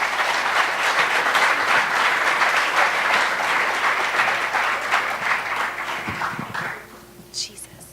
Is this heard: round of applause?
yes